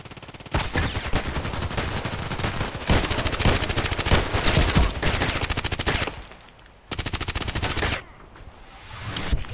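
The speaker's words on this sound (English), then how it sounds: "Playing just with a pistol." Rapid gunfire from a Python revolver in the video game Contract Wars, with dense bursts of loud shots in long strings, a short pause near the end, then another burst.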